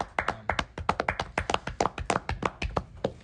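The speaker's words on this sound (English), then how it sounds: "So that deserves a round of applause." A room full of people clapping together, a dense stream of sharp hand claps keeping an even patter throughout, close and moderately loud with no talk over it.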